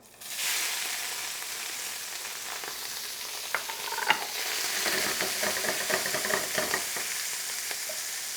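Shrimp, squid and other seafood frying in hot oil for an Italian seafood salad: a steady, loud sizzle throughout, with scattered crackles and pops as the pieces are stirred and spread in the pan.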